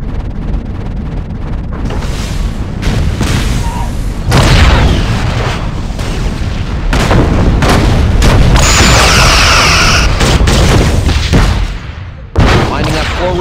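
Heavy torpedo explosions from a Star Trek space battle animation, with Voyager fighting an Ori fleet: a dense, loud run of overlapping booms and rumbling blasts with sharp impacts and a brief pause near the end.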